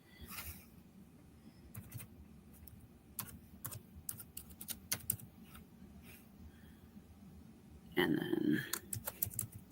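Quiet typing on a computer keyboard while filling in an online form, with irregular key clicks spread through the clip and brief speech near the end.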